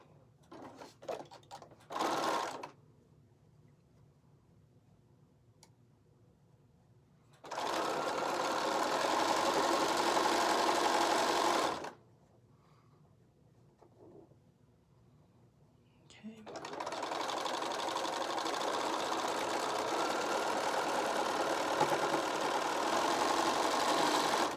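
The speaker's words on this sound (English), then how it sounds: "Now I'm going to fold this piece up, and I'm going to stitch this to the center" A sewing machine stitches quilt fabric pieces in two long, steady whirring runs, loud and close, separated by pauses with brief handling noise.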